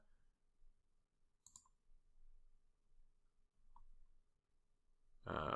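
Faint, isolated computer mouse clicks in a quiet room, a couple of sharp ticks spaced apart followed by a louder knock at the end, with no talking.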